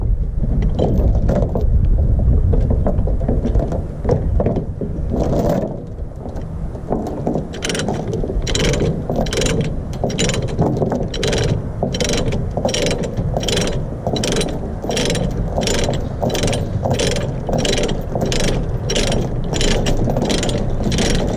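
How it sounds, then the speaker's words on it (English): A ratchet chain load binder being tightened on a trailer to secure a BX tractor; a few seconds of wind and fumbling give way to a long, regular series of sharp, close ratchet clicks under outdoor wind noise. "I'll hook the binder up to the chain now."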